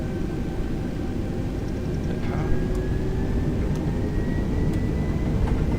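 An easyJet airliner rolls down the runway in Microsoft Flight Simulator 2020, its engines giving a steady, loud roar with a faint rising whine throughout.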